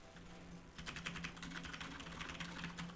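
Rapid clicking of a loud computer keyboard being typed on during a game session, a dense run of keystrokes close to the microphone over a low hum.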